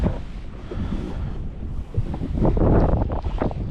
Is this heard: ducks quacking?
no